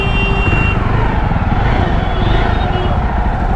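A Jawa 42 Bobber motorcycle rides through congested road traffic, a steady close engine rumble blended with the drone of surrounding cars and vehicles, continuous and loud throughout.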